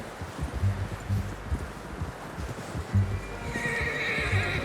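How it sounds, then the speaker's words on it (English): Horse neighs and hooves clop in Red Dead Redemption 2, a whinny rising over steady rhythmic hoofbeats with faint rustling, close and fairly loud throughout. "How's that new horse?"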